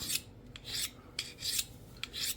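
A knife is honed on a plain steel honing rod with no abrasive: four crisp, bright scraping strokes, each followed by a brief ringing tick, close up and alone, in a steady alternating rhythm.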